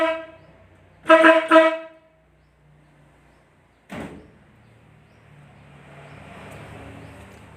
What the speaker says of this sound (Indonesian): itu tadi untuk bunyi dari klakson corong yang menggunakan dinamo, bukan menggunakan relay.